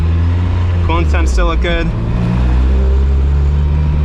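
A Mazda Miata MX-5 with a swapped Honda K24 engine drives with a steady engine drone, briefly rising as it revs, while a person talks over it close by.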